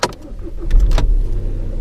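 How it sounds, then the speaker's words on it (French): A Volkswagen Passat with an engine warning light fault cranks briefly and starts, then settles into a loud, close, steady idle rumble. "Mise en marche du véhicule."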